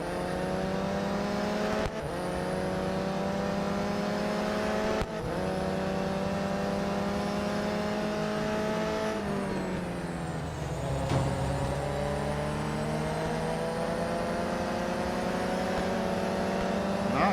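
An old-school race car engine from the Real Racing 3 video game drones loudly and continuously, with brief gear-change dips and a sweeping rev midway.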